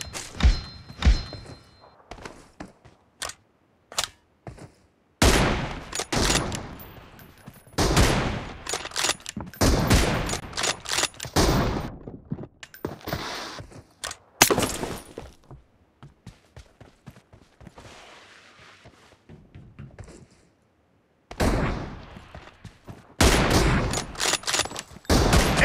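Gunfire in a multiplayer shooter video game, with bursts of rapid shots and single heavy thunks spread across the stretch, loud and close, with brief pauses between volleys.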